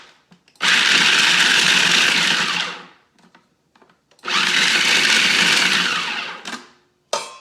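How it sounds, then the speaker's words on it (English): A kitchen blender pulsing macadamia nuts on their own, two loud sustained whirring bursts of a few seconds each with brief pauses, then a short final blip. "I'm gonna give them just a little bit of a pulse on their own first to blend them up"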